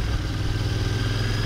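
A new Royal Enfield 650 Interceptor cafe racer motorcycle running close by with a steady engine drone, a thin gearbox whistle threaded through it during a gear change, continuous and fairly loud for a moment.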